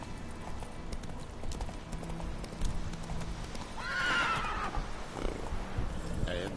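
Roach the horse gallops in The Witcher 3, with steady fast hoofbeats and a clear whinny partway through, over game ambience and some faint speech.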